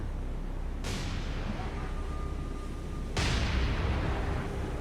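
Heavy naval gunfire from warship guns in the War on the Sea game, two loud booming salvos with long rumbling tails filling the scene, one near the start and a stronger one about three seconds in.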